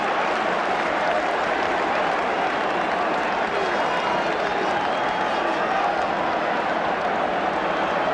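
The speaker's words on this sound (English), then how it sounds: "Arsenal supporters applaud, Spurs supporters must feel like weeping." Arsenal supporters applaud at a 1980-81 First Division football match against Tottenham Hotspur, a dense, continuous roar of clapping and crowd noise filling the stadium throughout.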